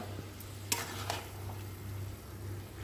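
Mourola fish with vegetable stalks simmers in a watery pan while a spatula stirs it, a soft bubbling sizzle punctuated by a few sharp clinks and scrapes against the pan under a low steady hum.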